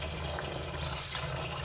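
Water running steadily from a tap into a container while rinsing salted jackfruit in a home kitchen, a continuous close splashing hiss with no speech.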